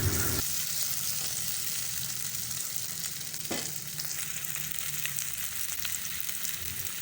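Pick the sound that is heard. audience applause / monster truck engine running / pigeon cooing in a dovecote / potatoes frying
potatoes frying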